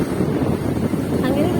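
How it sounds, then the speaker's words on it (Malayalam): Cold outdoor wind buffets the microphone in a steady, loud low roar for a moment, with no pause or let-up. "ഇത് കാറ്റ് എന്തൊരു തണുപ്പ്"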